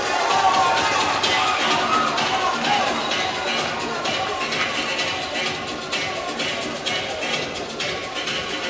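Arena crowd at a professional boxing bout rooting for Mario "Guero" Ramirez against Alfredo Pitta, a steady loud roar of many voices with claps and shouts carrying through the whole stretch.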